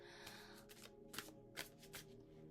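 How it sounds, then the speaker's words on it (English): Tarot cards are shuffled by hand close by, a quiet run of riffling bursts with sharper snaps at uneven intervals and no speech. "I'm going to go ahead and shuffle"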